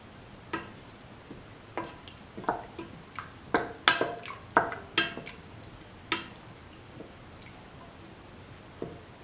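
A potato and peanut butter mixture being stirred as it cooks, with scattered wet squishing and scraping strokes, soft and irregular, some louder clacks in the middle.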